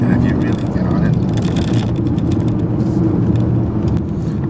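A 2018 Porsche Macan SUV engine pulls hard under acceleration, a loud, steady droning roar that stays close throughout with no voices over it.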